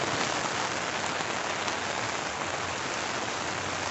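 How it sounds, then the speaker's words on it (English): Steady, dense hiss of outdoor rain falling on a G4FREE 72-inch umbrella, heard up close as an even wash with no voices. "I finally get to get out in the rain."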